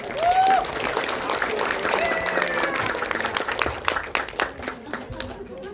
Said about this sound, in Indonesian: Silakan tepuk tangan teman-teman.